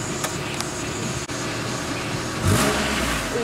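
A car pulls away and accelerates along a road, a steady engine drone that rises and swells louder toward the end, with a brief dip partway through.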